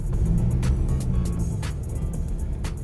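A rear-wheel-drive car in sport mode pulls away on snow, its engine a low, steady rumble up close, broken by scattered sharp clicks and ticks.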